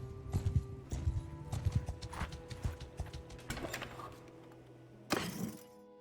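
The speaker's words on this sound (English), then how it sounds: "Oh, they have horses." Horses in the medieval video game Mount and Blade II Bannerlord, with rhythmic hoof clip-clops thudding and a short whinny among faint clanking, fairly soft with no speech.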